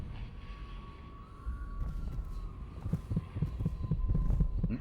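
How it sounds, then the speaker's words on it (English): A heartbeat thumps in Dishonored, a steady run of low throbbing pulses that grows louder and more insistent toward the end, over a faint humming tone. "Heartbeat. Heartbeat."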